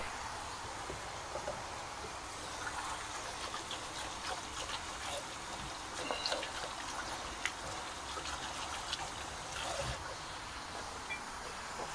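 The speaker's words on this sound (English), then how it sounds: "I'm going to wash my hands because I just touched bacon." Tap water running steadily for hand washing in a kitchen, a soft even rush with faint splashes, fairly quiet and without voices.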